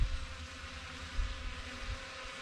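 Ruko F11PRO camera drone flying in wind, giving a steady, fairly quiet motor whine and buzz over a low rumble of wind throughout, with no voices.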